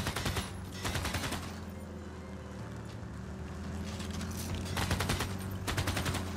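Units open fire on enemies in the video game Civilization VI, with a rattling volley of rapid shots at the start and another near the end over a constant low rumbling bed of game ambience.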